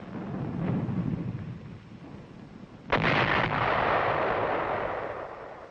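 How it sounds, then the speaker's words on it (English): Heavy tank gunfire shelling enemy fortifications during the WWII Battle of Okinawa around Naha: a rumbling barrage fills the background, then a loud, close blast lands midway and its roar rolls on and slowly fades. "While tanks shelled the gun forts, infantry moved into position for an assault."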